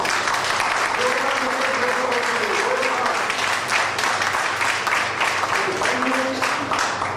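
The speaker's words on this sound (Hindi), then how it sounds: "अपने आप के लिए जोरदार तालियां" Steady, dense applause from a large crowd, continuous throughout, with a voice speaking faintly beneath the clapping.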